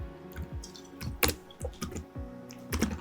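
Java code is typed on a computer keyboard in irregular bursts of close, crisp key clicks with brief pauses between strokes, and no voice over them.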